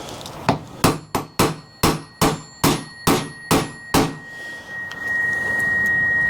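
A Stihl weed eater clutch drum gets tapped into place with about ten sharp, evenly spaced hammer knocks at close range, each one ringing briefly before the next, and a faint tonal hum is left once the tapping stops.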